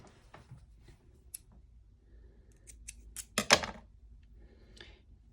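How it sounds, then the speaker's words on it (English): Scissors snip crochet yarn close by in a quiet room: a few faint clicks, then a tight cluster of sharp, louder cuts just after three seconds, with softer ticks trailing off. "So now I'm going to grab my scissors."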